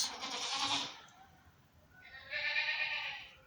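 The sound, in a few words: Alpine goat buck bleating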